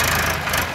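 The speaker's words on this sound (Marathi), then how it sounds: "आता आम्ही संघच काढत आहे तिन्ही ट्रॅक्टर." Tractor engines idle and run in a loud, steady low rumble close by, a brief continuous drone with no voices.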